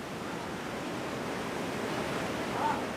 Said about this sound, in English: The only sound is the grass and trees shaking in the wind.